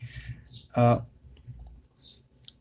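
A computer mouse clicks while working in Microsoft Excel, a single crisp click standing out between quiet stretches with faint room noise.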